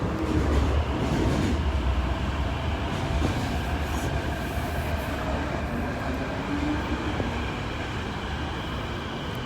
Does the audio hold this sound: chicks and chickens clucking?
no